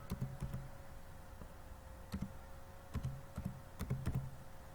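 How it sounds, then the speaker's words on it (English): Typing on a computer keyboard with soft, close key clicks in short clustered bursts separated by brief pauses, over a steady low background hum, with no talk. "In search bar, type Mikrotik."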